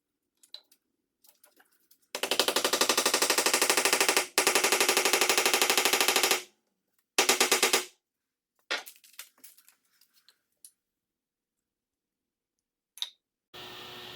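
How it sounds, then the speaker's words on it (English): Rapid mechanical bursts of dense, fast repeated strikes while assembling a modular heptagon wedding arbor, two long runs then a short one, followed by a few scattered knocks and taps. "Just start hammering."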